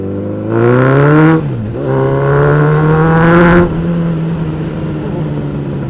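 A motorcycle engine, from a range of 125 cc to 900 cc bikes at a lakeside riding event, revs hard and loud up close in two rising surges, dips briefly between them, then settles into a steady growl.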